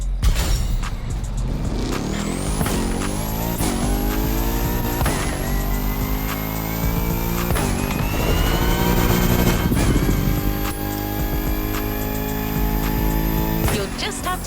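A car drifting through The Crew Motorfest in central Hawaii, high among wind turbines: a steady, loud engine drone with rising revs and repeated sharp shifts, tyre noise under a constant music-like bed, no talk.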